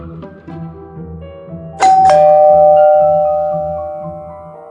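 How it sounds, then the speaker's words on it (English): A two-tone ding-dong doorbell rings once in a Little Red Riding Hood puppet theater video game, bright chimes ringing out clearly over a soft musical background and slowly fading. "The doorbell rang."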